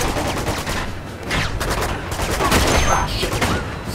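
Dense, continuous gunfire in a Uncharted 2: Among Thieves Remastered train yard firefight, overlapping shots crackling steadily at close range for several seconds with no break.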